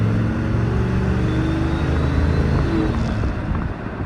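Chevy truck with a newly replaced transmission, converted to an NP149 all-wheel-drive transfer case, pulling away on a road: a steady loud engine drone with rising tones and a pitch change near the end as it moves through the gears.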